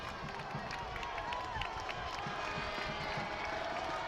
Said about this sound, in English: Crowd's starting to come alive over here.